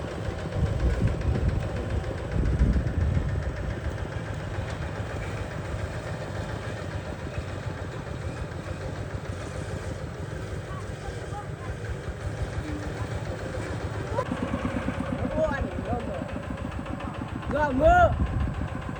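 A Thai two-wheel tractor (rot e-taen) ploughs a paddy field, its single engine chugging steadily at mid-distance with a low knocking throb that swells near the end, while people talk over it.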